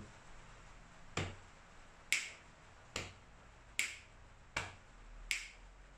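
Body percussion pattern: a soft tap on the chest followed by a sharp finger snap, repeated in a steady rhythm, six crisp snaps in all, close and clear with no talking.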